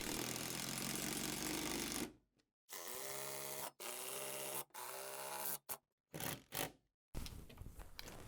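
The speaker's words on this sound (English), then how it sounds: "I can speed up the process quite a bit by using an impact driver with a socket." An impact driver with a socket tightens TV wall-mount bolts in a run of loud, buzzing bursts. A long first burst is followed by several shorter ones, each separated by brief silent pauses.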